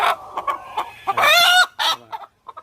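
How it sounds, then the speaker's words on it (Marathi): A native village rooster clucks and calls in a run of short bursts, with a louder, drawn-out cry in the middle, close by and with no talk. "अशा प्रकारे हा ऍक्टिव्ह असतो प्युअर ओरिजिनल गावठी कोंबडा"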